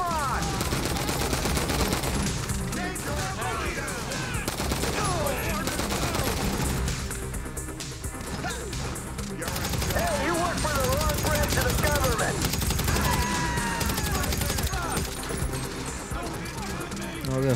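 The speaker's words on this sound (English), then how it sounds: "Finally, I had to use my gun." Gunfire from a gun in GTA V on PC story mode, playing as Michael De Santa: dense bursts of rapid shots and volleys run throughout, loud and sustained under game music and voices.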